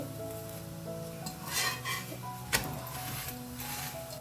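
A lachha paratha cooks on a hot pan, giving a low sizzle as it is pressed down, with a louder burst of frying midway and a sharp clatter just after.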